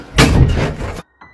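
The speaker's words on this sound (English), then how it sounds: "The door just closed." A door in a house closes with one loud, close thud and a short rattle, then brief silence and a faint trailing sound.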